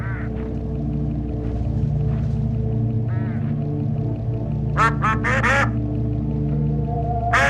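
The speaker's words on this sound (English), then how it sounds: "Look, hooded crows all along this road." Hooded crows call in the Hitchhiker video game: a cluster of harsh, rising bird calls near the end, with a few fainter calls earlier, over a steady droning game background with no talk.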